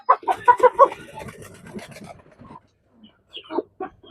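Nearby chickens cluck in a quick burst of short calls, pause briefly, then give a few more clucks.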